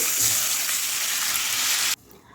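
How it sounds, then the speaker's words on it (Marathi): Water pours into a hot pan of fried gram flour paste, giving a steady, loud hiss and rush that continues for about two seconds, then cuts off abruptly to quiet. "या वाटीनं मी दोन वाटी पाणी टाकून घेत आहे"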